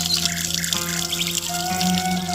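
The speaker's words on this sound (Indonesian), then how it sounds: "Airnya ngalir" Water runs steadily from an upper fish pond into a traditional outhouse, a continuous close trickle and splash with a faint tonal hum behind it.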